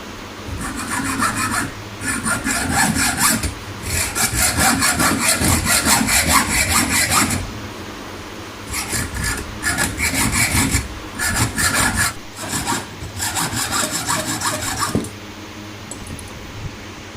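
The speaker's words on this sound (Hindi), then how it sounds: "ग्राइंडर नहीं है अगर आपके पास, तो हेक्सा ब्लेड के साथ तो इसकी कटिंग कर सकते हैं।" Hacksaw blade cutting through material by hand, loud, close rhythmic rasping strokes in several bursts separated by short pauses, with no talking.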